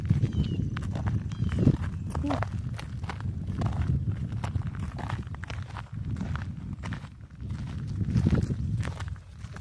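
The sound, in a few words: horses walking, hooves clopping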